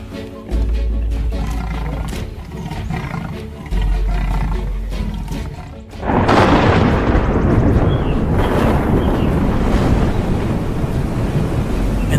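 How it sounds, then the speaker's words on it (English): Heavy rainforest downpour with wind thrashing through the canopy, a dense roaring wash of rain that surges louder midway, with low rumbling thunder beneath, no talking. "Thunder splits the sky, and the wind thrashes through the canopy"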